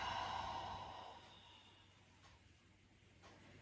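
A long, slow exhale through the mouth during a gentle yin yoga breathing practice, soft and close, fading gradually into quiet room tone.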